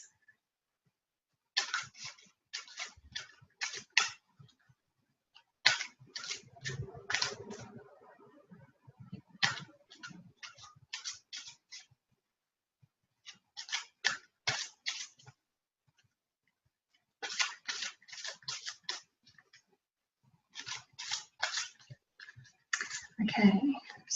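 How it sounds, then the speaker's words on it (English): A deck of cards being shuffled in repeated bursts of quick riffling clicks separated by short pauses, close and fairly loud, with a brief low sound in the middle. "I'm just going to shuffle the cards."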